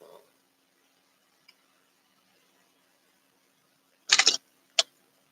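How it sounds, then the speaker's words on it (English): Tarot cards are shuffled in two quick riffling bursts, close and crisp against a quiet room, after a faint click. "let me do one more shuffle"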